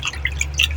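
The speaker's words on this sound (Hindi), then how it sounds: "इसी तरह आपने पालक को भी 2 से 3 दफ़ा पानी में वॉश करना है।" Spinach leaves being washed in water give a few quick, close drips and small splashes over a low steady hum, lasting under a second.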